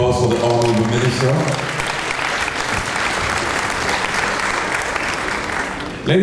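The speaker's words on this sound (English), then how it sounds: "Another round of applause for the Honourable Minister." A round of applause for a minister at a policy forum opening ceremony, starting as a voice trails off, then steady crowd clapping that fills the room and slowly tapers.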